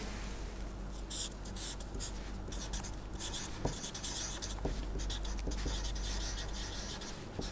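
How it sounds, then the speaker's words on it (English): Pen or marker scratching steadily on paper or a board while a two-band filter bank diagram is drawn, close and quiet, with short strokes, small taps and pauses over several seconds. "We must first put that, we must write that down in terms of a drawing first."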